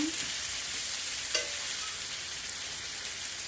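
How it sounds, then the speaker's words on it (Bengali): Fish fries in a pan and gets stirred, with a strong, steady sizzle and a brief utensil scrape and clink early on; close and continuous, with no talking. "মাছগুলো দিয়ে একটুখানি নাড়াবে, 5-6 মিনিট নাড়াবে"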